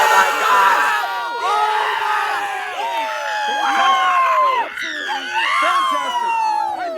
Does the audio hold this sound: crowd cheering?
yes